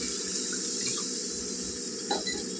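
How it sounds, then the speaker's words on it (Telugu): Water trickles and splashes into an onion tamarind curry in a pot, a soft, close stream running steadily under a gentle background hum, with a small splash near the end. "ఇందులో మనకి సైడ్ సరిపడా నీళ్ళు వేసుకుందాం"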